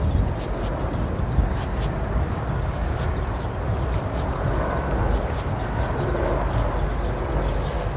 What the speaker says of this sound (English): We've got some helicopter activity.